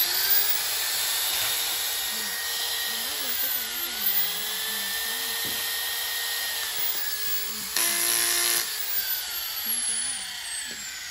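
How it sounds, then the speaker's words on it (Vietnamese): A Makita 100-volt drywall screw gun with a reversing switch runs with a continuous high motor whine that shifts slightly in pitch and has a brief louder burst. Someone talks over it throughout. "Rồi con này là con bắn vít thạch cao."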